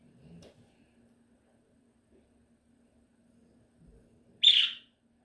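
A pet bird in a home lets out a single short, bright chirp near the end, after a soft faint noise and long near-silence.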